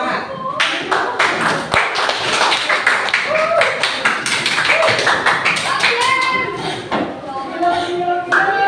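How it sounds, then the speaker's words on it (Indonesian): A class clapping hands in a classroom, sharp, uneven claps close by, loose at first, then settling into a lively patter with voices talking over it. "Kasih tepuk tangan dulu biar semangat."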